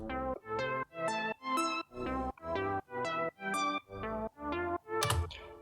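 A second synth arpeggio in an electronic production, playing a bright, harmonically rich sequence of about a dozen even notes, each ducked and pumping hard from heavy sidechain compression, alone and upfront.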